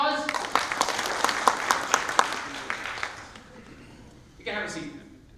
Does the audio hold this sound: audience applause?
yes